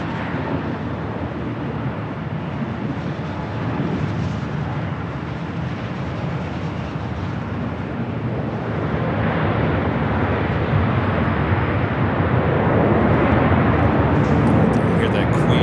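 A Boeing 747 landing on the south side at Los Angeles LAX, a distant, continuous jet roar that swells slightly in the second half, heard under talk.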